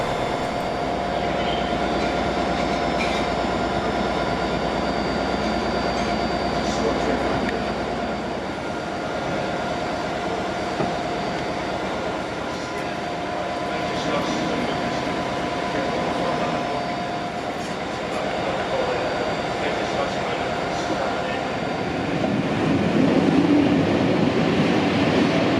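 Steady rumble of a steam-hauled train with a genuine steam-age carriage starting to roll toward Appleby, a low continuous drone with faint clanks, building slightly louder toward the end.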